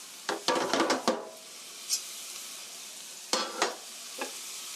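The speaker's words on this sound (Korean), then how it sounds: "넣어서 양파가 노릇노릇하게 될 때까지 볶아주세요." Sliced onion and garlic are stir-fried in a pan over medium heat, with a few bursts of scraping and stirring against a soft sizzle. Quiet gaps fall between the strokes, and no one talks.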